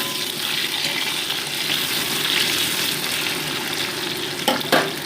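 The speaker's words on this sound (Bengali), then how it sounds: "আলুর টুকরোগুলোকে মোটামুটি গোল্ডেন ব্রাউন করে ভেজে নিচ্ছি" Potato pieces fry in hot oil with a dense, steady close-up sizzle that holds evenly throughout, ending with a couple of brief stirring knocks.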